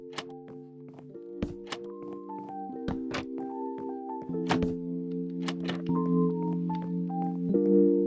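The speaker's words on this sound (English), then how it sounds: "And we're putting some support beams in." Blocky wooden thunks and knocks from support beam blocks being placed in vanilla Minecraft during a Copper Age build, a string of sharp separate hits over a steady tonal drone.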